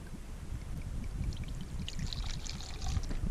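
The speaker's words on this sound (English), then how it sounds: "Now let's pour a little drop in there and have a taste." A drink poured at a wild camping spot on the Isle of Skye makes a continuous close gurgling stream of liquid running into a cup, steady for a few seconds without talk.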